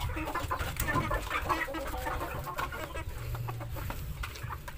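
Adult chickens on a farm cluck in scattered, overlapping bursts at moderate distance, with a low steady background noise underneath.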